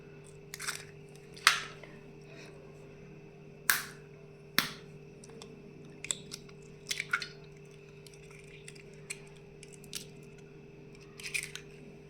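Eggs cracked into a bowl for walnut brownie batter, a few sharp isolated cracks and taps scattered over a quiet kitchen with a steady low hum underneath.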